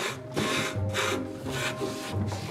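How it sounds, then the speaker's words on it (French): Coarse-grit sanding of the top of a wooden board salvaged from an oriental window, a steady rhythmic back-and-forth rasp in repeated strokes, close and loud with no talk. "Je vais tout simplement venir la poncer et grainer au grain assez fort le dessus pour qu'elle soit toute douce"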